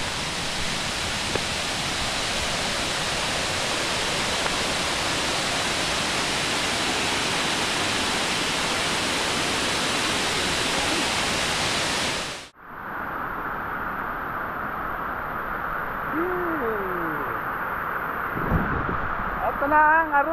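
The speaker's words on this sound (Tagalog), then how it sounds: "Ito na ang Aruyan Falls." Aruyan Falls, a waterfall in Sabalayan, Occidental Mindoro, sends up a steady, dense rushing roar for about twelve seconds before cutting off into a quieter outdoor scene with faint voices.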